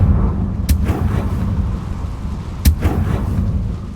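Confringo blasting spell cast in the Hogwarts Legacy video game, heard as two sharp explosive bursts about two seconds apart over a steady low rumbling game backdrop, with no talking.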